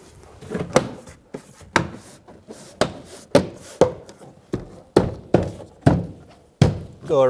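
Plastic door panel clips on a 2005-2015 Toyota Tacoma snapping into place, about a dozen sharp close thunks and knocks at an uneven pace with no talk.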